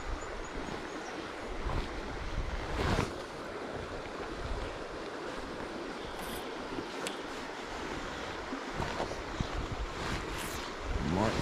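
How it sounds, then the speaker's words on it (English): Gusty wind buffeting a microphone beside a river upstream of a bridge while trout fishing, a constant broadband rushing roar with brief swells and faint splashy water beneath, no clear talk. "Oh, that wind."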